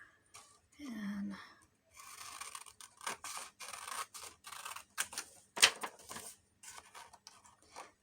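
Scissors snip paper cut out for a spring birds journal in a traveler's notebook, a string of close, crisp cuts and rustles with short pauses between them.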